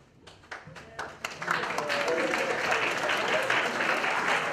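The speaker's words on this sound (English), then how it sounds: "Please give a strong clapping for him." A lecture audience at a research congress plenary breaks into applause, starting with a few scattered claps and swelling into sustained, full clapping from the crowd.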